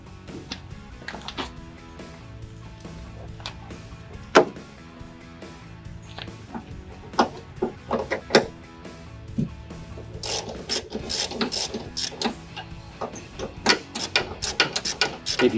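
A ratchet wrench backs a bolt out of the tailgate bracket on a Jeep Wrangler TJ, with bursts of quick, close clicking and scattered knocks of metal against metal over a quiet background.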